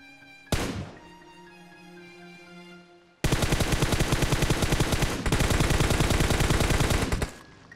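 Gunfire in Battlegrounds Mobile India: a single sharp shot, then a tonal lull, then a long loud burst of rapid automatic fire with a brief break partway through, close and dominant, with no talking.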